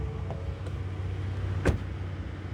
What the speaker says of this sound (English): let's check out the sound of the closing door.